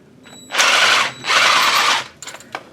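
A jack under a Mustang frame jig is cranked up with a ratchet: two long, loud bursts of rapid ratcheting close by, then a few lighter clicks as it settles.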